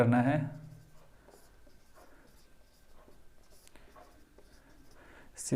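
Chalk or marker scratching on a board while a geometry proof statement is written out, light intermittent strokes after a brief burst of speech at the start, with a louder mark at the very end.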